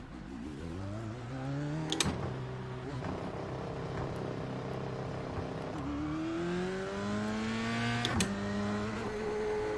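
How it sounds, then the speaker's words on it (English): A Lotus 79 open-wheel race car in the iRacing sim revs hard and close, its engine note climbing and dropping through several gear shifts, with sharp pops at the changes. "Always love the sound of that Lotus 79. Such a great sounding car."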